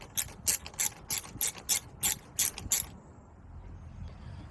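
A hand ratchet loosens small 7mm bracket clamps, giving nine sharp, evenly spaced clicks up close, then falling silent.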